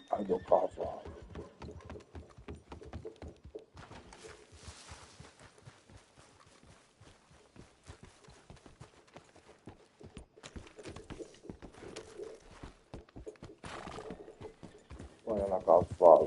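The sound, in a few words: horse neighing and trotting in video game Red Dead Redemption 2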